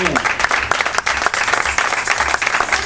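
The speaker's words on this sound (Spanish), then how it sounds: "lo que quiero hacer es darle el aplauso al Señor" A church congregation claps together in a loud, close, even burst of applause with quick, dense strikes throughout, in a worship setting.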